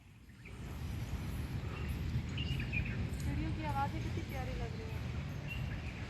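An Asian koel calls several times in quick rising phrases on a rainy day in Riyadh, faint over steady background noise.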